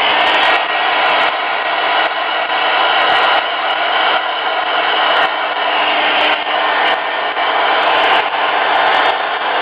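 Hair dryer blowing to dry paint on a Halloween ghost painting, a loud steady close-up rushing whoosh that runs unbroken with slight wavering and no talking.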